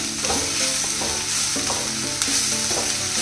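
A teaspoon of ginger garlic paste frying with onions in a pan: a steady, close sizzle and crackle with stirring scrapes, and no talking.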